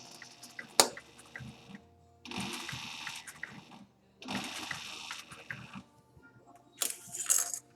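A sewing machine runs along the gusset seam of an overnight bag in three short bursts of quick mechanical stitching, with clicks and handling sounds between them.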